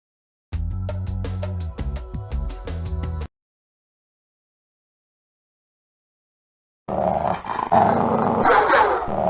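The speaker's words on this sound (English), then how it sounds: "What's this vicious dog doing here?" A vicious dog in a Sherlock Holmes video game growls and snarls in a loud, close burst of about three seconds, then falls silent before another harsh, noisy stretch of growling begins.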